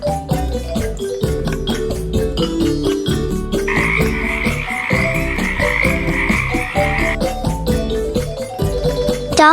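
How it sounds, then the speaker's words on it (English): A frog croaks repeatedly in a steady rhythm, loud and close, with dense layered calls over the full stretch and no voices. "frog"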